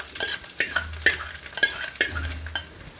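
Chopped ginger, garlic and chili stirred in a hot pan, with a steady sizzle and a spoon scraping the pan in regular strokes about every half second, close and clear, no talking.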